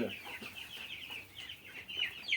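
Tiger chickens sick with a cold virus cluck softly and repeatedly, a faint run of short, rough calls with no talk over them.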